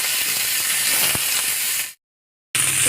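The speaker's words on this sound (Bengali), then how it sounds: "হালকা করে কপিটা ভেজে নিতে হবে" Cauliflower fries lightly in hot oil for khichuri, giving a loud, steady, close sizzling hiss that cuts out briefly to silence and then resumes.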